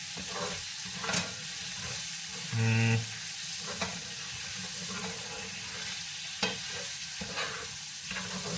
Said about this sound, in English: Now I'm frying up bacon and chicken breast.